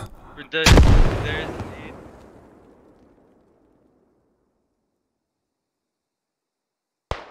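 A grenade blast during a military game operation, one loud, close explosion with a long decaying rumble that fades to silence, followed by a brief click at the end.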